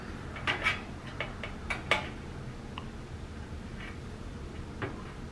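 Chocolate chip cookie dough portions set down one by one on a metal sheet pan, giving several soft taps and light clinks spaced irregularly at close range over a low background hum.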